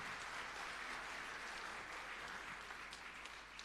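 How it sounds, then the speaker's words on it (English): Audience applause at a coding academy graduation ceremony in Jamaica, a steady wash of many hands clapping that holds even and fairly faint for the whole stretch, with no talking over it. "give them a big round of applause for such an astonishing accomplishment"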